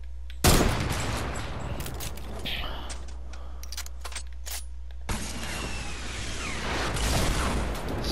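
Gunfire in Fortnite, rapid sharp shots layered over a continuous loud low rumble, close and busy throughout, with a heavy burst near the start and another surge midway.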